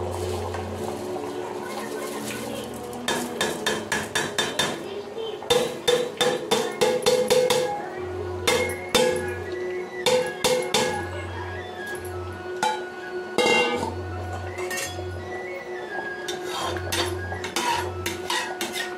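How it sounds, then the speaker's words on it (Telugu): Soaked rice goes into a mutton dum biryani pot with repeated metallic clanks and scrapes of a ladle against the vessel in uneven bursts, close and fairly loud, over a low hum. "ఇప్పుడు ఈ బియ్యాన్ని ఇందులో బిర్యానీలో వేసుకోవాలి"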